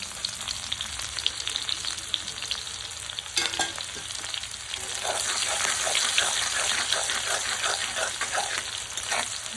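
Onion and dried red chilli sizzle steadily in hot oil for a pangas fish and potato curry, a dense close crackle with occasional stirring scrapes and no talking.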